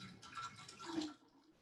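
Water is poured briefly into a vessel during a Unitarian Universalist water communion service, a soft splashing pour of about a second that fades into quiet.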